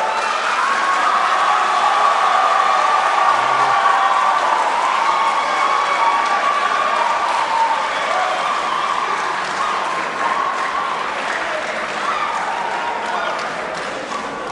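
Studio audience at a tour finale breaks into sustained loud applause, a dense steady clatter of clapping hands with some cheering that slowly eases near the end.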